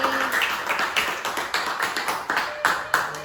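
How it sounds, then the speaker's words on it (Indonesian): Classmates applaud a student named Afil in a school classroom, a loose spatter of claps with uneven taps and faint voices underneath. "beri tepuk tangan yang meriah untuk Afil"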